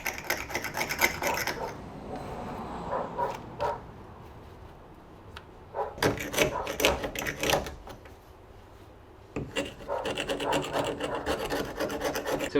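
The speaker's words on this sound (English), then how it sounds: "trying to scrape off the silicone" Silicone caulk being scraped off the fiberglass of a truck camper during a remodel, heard as bursts of rough rasping strokes separated by quieter pauses, close and fairly loud, with no talking.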